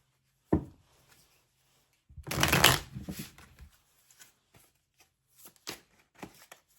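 Tarot cards are shuffled in a near burst of riffling and flicking that swells for about a second, preceded by a single sharp snap and followed by scattered soft card taps, with no talking.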